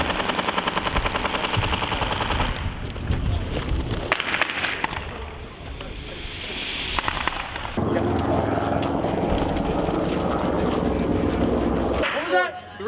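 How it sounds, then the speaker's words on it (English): Heavy machine gun fire during US military civilian evacuation training rattles in rapid, steady bursts, loud and sustained, with people shouting and talking over it. "See the heavy machine gun fire?"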